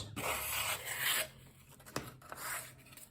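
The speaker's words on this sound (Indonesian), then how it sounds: "Kita amplas supaya lebih halus." Sandpaper rubbing back and forth on a small part of a homemade rubber-band-powered model airplane, close and quiet, in a few short rasping strokes with brief pauses between them.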